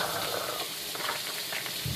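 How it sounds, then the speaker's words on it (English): Raw pork breakfast sausage sizzles steadily in a hot pan, a close, continuous crackling hiss with no talking. "And hear that little sizzle sazzle."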